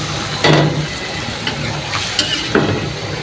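A spatula scrapes and stirs a simmering mixture of cooked chicken liver, potatoes and a little water in a kadai, with soft sizzling underneath and a few distinct scraping strokes spaced irregularly, close and moderately loud, no voices.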